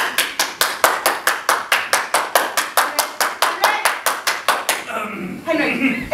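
One person claps alone in a stage play, a steady run of about twenty sharp, evenly spaced claps, close and loud. A voice starts speaking as the clapping stops.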